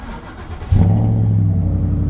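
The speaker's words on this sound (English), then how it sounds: "That's the first cold start for the day." A 2017 Ford F150 pickup with 121k miles cold-starts: a brief starter crank gives way to a sudden loud catch and a steady, deep idle rumble close by.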